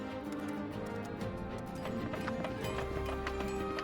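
Horse hooves clip-clop at a steady walking pace in the farming life game My Time at Evershine, over a layered bed of game music and ambience.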